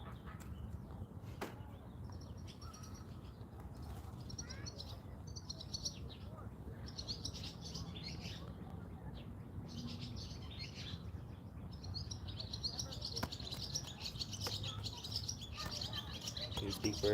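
Small birds chirp outdoors during a fishing outing, repeated bright high twittering phrases in bursts at moderate distance over a low background rumble, with occasional voices nearby.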